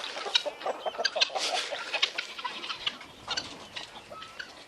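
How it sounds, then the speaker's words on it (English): Chickens cluck and chatter near and far in a farm pen that also holds guineas, overlapping busy calls at moderate loudness with no talk. "Got some chickens over here in this fence that stays over there. We got all the chickens and all the guineas."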